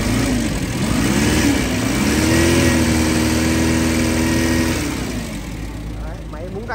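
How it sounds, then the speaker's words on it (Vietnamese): A petrol engine in a Komatsu FG15 forklift revs up and down in a steady swell, then settles back. It is loud and close, and the tone rises and falls over several seconds. "Máy xăng này."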